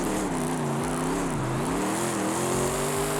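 A Cadillac CTS-V drift build in Forza Horizon 5, its engine droning and revving steadily, the pitch rising and dipping, loud and constant with no voices.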